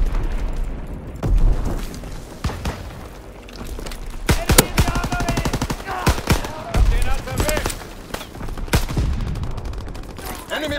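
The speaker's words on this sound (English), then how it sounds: "Enemy bomb incoming." Explosions and gunfire in the video game Call of Duty WWII, with loud booms, scattered rifle shots and bursts of fire in a chaotic battle, while in-game voices call out over the din.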